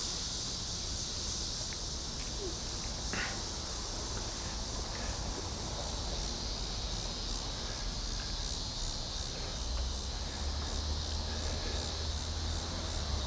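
Cicadas buzz in a dense, unbroken drone outdoors on a humid summer day after rain, steady throughout with light wind rumble underneath.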